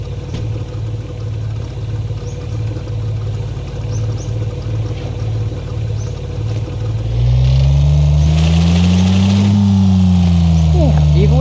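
A car's stock engine without a turbo idles with a steady low rumble in a video game, then revs hard and loud, its pitch climbing and wavering as it strains.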